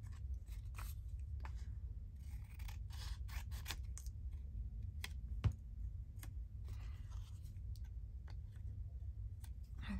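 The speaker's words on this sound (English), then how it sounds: "Snip my corners." Scissors snip around the corners of hand-painted, stamped paper labels in a quiet room, a series of crisp close cuts spaced irregularly, with one sharper snap partway through.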